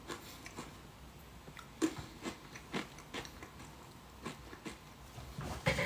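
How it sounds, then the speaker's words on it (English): Someone eats crunchy food up close, with quiet, irregular crunches and bites spaced a second or so apart against near silence and no talking. "I can't let you guys just listen to me for however long crunching."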